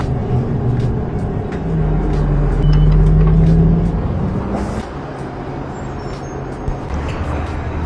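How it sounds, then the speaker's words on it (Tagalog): Street traffic heard while walking toward work: a loud, close, continuous roar of passing cars and buses with engine rumble, a rising low drone and hissing air-brake bursts, with no talking. "Yan, traffic."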